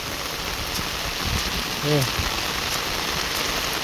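Heavy rain pours down steadily in Laos, a dense, loud hiss of water across the whole span, with a brief low voice-like murmur rising near the middle.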